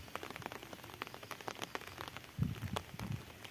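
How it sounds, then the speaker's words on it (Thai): Morning rain falling over a planted rice field, with scattered drops ticking steadily throughout and a brief heavier patter near the end. "ฝนตกนะครับวันนี้ตกปกแปกนะครับเช้านี้ฝนตกนะครับ"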